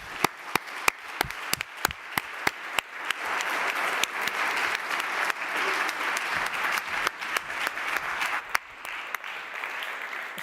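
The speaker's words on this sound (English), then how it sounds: "Let me again ask you for a hand of applause to Svetja and the whole team who were so nice to host us." A conference audience at a global forum on adaptive social protection applauds, a dense continuous round of clapping with sharp individual claps standing out and no talk over it.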